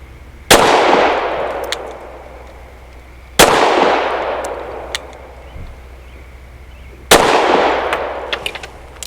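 Three single shots from an Avidity Arms PD10 pistol firing steel-cased ammunition outdoors, each a sharp loud crack with a decaying echo, spaced a few seconds apart, with faint small clinks between.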